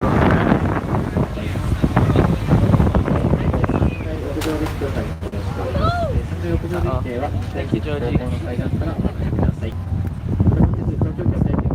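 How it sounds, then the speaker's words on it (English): Strong wind buffets the microphone in a constant low roar on a river boat in Tokyo while people talk over it, with boat engine rumble underneath. "Oh, it's windy out here"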